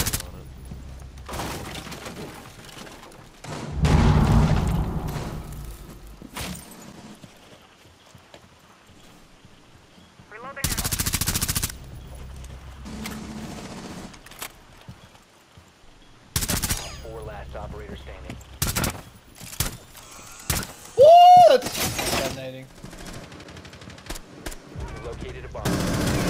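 Gunfire rings out in bursts during a video game shooter match. Loud rapid automatic volleys alternate with single shots and quieter stretches, and a brief whistling tone sounds near the end.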